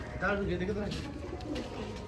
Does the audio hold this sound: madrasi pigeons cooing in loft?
yes